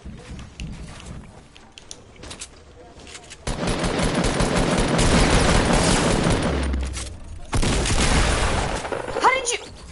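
Pump shotgun gunfire from the Fortnite video game, loud sharp blasts with dense bursts of game combat noise, heard mixed with a player's excited talk.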